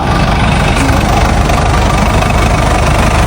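A Kubota agricultural machine's engine idles steadily and loudly, a dense continuous rumble that stays even throughout with no pauses.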